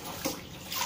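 A short, close splash and slosh of soapy water as a fan part is soaked and doused in a basin, with a couple of quick pours in under a second.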